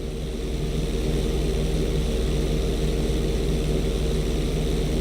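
A steady, loud propeller plane engine drones continuously in flight in GTA V, an unbroken close buzzing hum with no other sounds.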